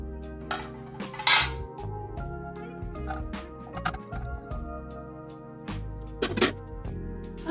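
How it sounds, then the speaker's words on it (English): Pots, pans and metal utensils clank and clatter in a home kitchen while cooked sweet potato is strained, with scattered sharp knocks and ringing hits spread across several seconds and no talking. "Let me go ahead and put this off too and strain the sweet potato."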